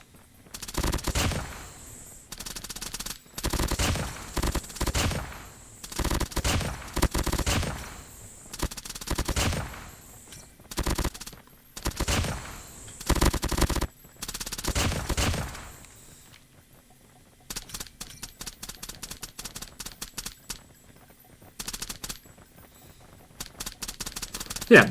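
Bursts of SMG fire in COD Mobile come in repeated loud, rapid strings of shots, with short gaps between them, then give way to lighter, quicker taps and clicks toward the end.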